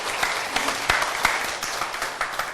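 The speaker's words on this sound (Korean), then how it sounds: "박수 한번 부탁드려요." Steady applause from an audience at a lecture, a continuous wash of many hands with a few sharper claps standing out nearby.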